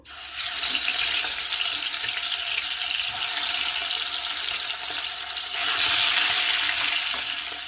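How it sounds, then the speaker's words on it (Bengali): Rohu fish pieces fry in hot oil with a loud, steady hiss that carries on without a break. It swells slightly near the end and has no voices. "তেল গরম হয়ে গেছে, আমি এবার মাছগুলো ভেজে নেব।"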